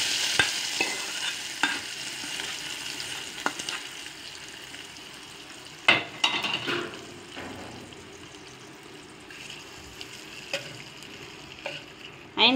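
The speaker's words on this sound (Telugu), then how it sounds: "తాలింపు పప్పులో పోసుకున్నాం." Soft sizzle of hot tempering poured into cooked red gram dal for a ridge gourd curry, followed by quiet stirring scrapes and a few sharper clinks of a spoon against the pot.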